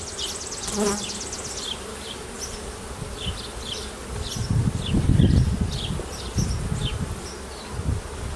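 Dense, steady buzzing of many honeybees up close in an open hive during inspection, a continuous droning hum with occasional low rumbling knocks.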